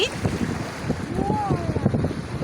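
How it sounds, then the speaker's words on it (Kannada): Waves and wind on a Bay of Bengal beach where the Nagavali river meets the sea near Srikakulam, a steady rough roar of surf and gusting wind buffeting the microphone, with faint voices underneath. "ಅಲ್ಲಿ ನೋಡಿ ಅಲೆಗಳು ಎಷ್ಟು ಎತ್ತರ ಜಿಗಿತಾ ಇದೆ"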